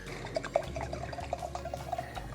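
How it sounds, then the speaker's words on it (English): Wine pours into glasses nearby in a quiet trickle with small liquid gurgles and light clinks, fairly faint and continuous, with no speech. "he pours up a drink"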